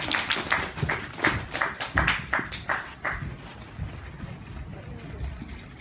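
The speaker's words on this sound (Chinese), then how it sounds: "掌声有请" Applause at a drama press conference and opening ceremony: a run of sharp, loud hand claps in the first three seconds, fading into softer scattered clapping and crowd murmur.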